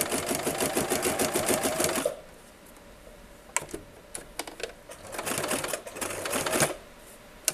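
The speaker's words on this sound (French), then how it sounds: "Et on continue à piquer." Sewing machine stitching fabric for a furoshiki, a close rapid mechanical needle patter running for two seconds, a pause with a few clicks, then another stitching run.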